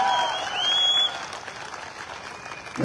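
Audience clapping at a product presentation in Jodhpur, a short burst of applause that swells for a second and then thins out into lighter scattered claps.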